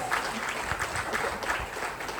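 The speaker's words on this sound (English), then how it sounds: "Can we say yes again and give a huge round of applause?" An audience claps steadily through the whole stretch, a dense and even wash of applause at a speaker's summit talk, a standing ovation with no voices rising above it.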